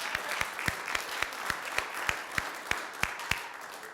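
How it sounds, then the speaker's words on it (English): A church congregation claps during a sermon, a sparse, loose patter of hands with a few sharp, distinct claps standing out at a steady rhythm, fairly quiet and with no talking. "Yeah, you can applaud that."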